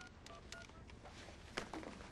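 A telephone is dialed, with a quick series of faint, evenly spaced keypad tones over a quiet indoor background.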